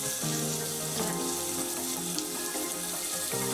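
Onions with ginger garlic paste frying in a pan for a coconut milk potato chicken curry, a steady dense sizzle and crackle running continuously at close range with no talk.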